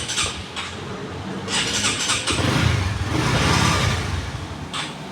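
A Honda Winner X motorcycle cranks and sputters as it tries to start, with bursts of uneven, misfiring engine noise that swell and drop over several seconds, close by.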